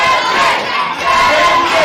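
A boxing crowd roars steadily in support of a fighter during a pro debut bout, a dense, loud wash of cheering and shouting voices that holds throughout.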